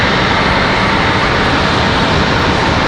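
A Delta jet airliner departing, a loud steady roar of engines filling the air continuously with no voices.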